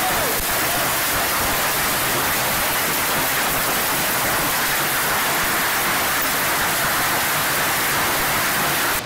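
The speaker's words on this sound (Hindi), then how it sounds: "ये गड़ों की बारिश यकीनन किसी की भी जान ले सकती है।" A hailstorm pelts down in a dense, unbroken roar, loud and steady from start to finish with no break or voices.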